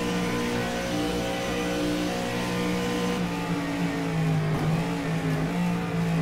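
Howston G6 MkI 1965 race car in rFactor 2 at Longford, its engine droning and revving steadily, pitch rising and falling through gear changes, up close and alone.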